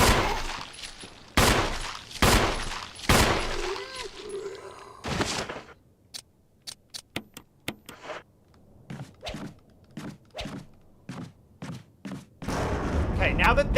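Gunfire in the Resident Evil remake game: heavy booming shots early, then a run of sharp, quicker reports spaced irregularly, with someone talking between them.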